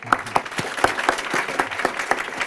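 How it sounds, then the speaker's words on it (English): A burst of applause from a small crowd at a luncheon, steady scattered clapping throughout. "just another round of applause for Wishdan."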